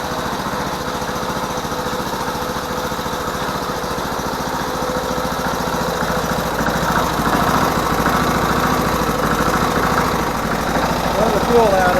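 Hoverstar 2+2 hovercraft lift engine running on test, a steady buzzing small-engine drone that stays loud throughout and rises slightly toward the end, with a voice talking over it.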